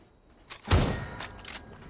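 A single close gunshot in PUBG, a sharp loud crack followed by a short rumbling echo and a brief softer burst after it.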